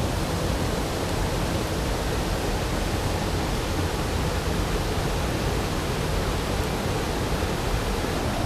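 A monsoon-flooded stream in Rajapur, Konkan, rushes in a loud, steady broadband roar of water, unbroken from start to finish with no voices.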